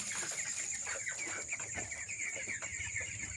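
Broiler chickens on a poultry farm cluck in a dense, overlapping chorus of short calls, close and steady, over a constant high background whine.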